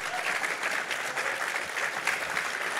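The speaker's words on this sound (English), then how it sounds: "Let's clap for them right now" A gala crowd at a cancer assistance program event claps for donors, a continuous even wash of many hands at moderate loudness, sustained throughout without speech.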